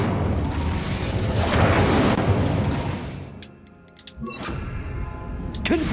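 An Incendio fire spell in Hogwarts Legacy gives a roaring, rushing blast that swells for about three seconds, then dies to near quiet with faint ticks before a second, softer whoosh returns.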